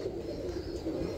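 A field pigeon of the Teddy breed coos softly and steadily at close range, a low continuous murmur with no talking.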